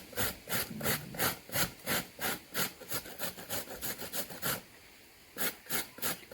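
Steady rhythmic rasping strokes of coconut being grated on the finest side of a box grater for Jamaican brown grater cakes, about a dozen close, even scrapes with a brief pause before the last few.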